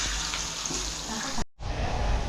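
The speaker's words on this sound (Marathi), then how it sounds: "इकडे चिकन फ्राय होतो आहे" Chicken frying in oil on a gas stove, giving a steady, loud sizzle with a brief drop to silence, then the sizzle returns just as strong.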